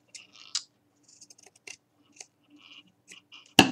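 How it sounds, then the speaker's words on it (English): Scissors snipping ribbon for a craft project, a quiet series of small crisp cuts and clicks spaced irregularly, close and isolated, ending in a louder sharp snap. "First, I'm going to snip this."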